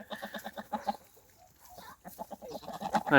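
Tame domestic geese of the Tula fighting and straight-beaked breeds honk and cackle close by, a series of short nasal calls in uneven clusters with a louder burst at the end.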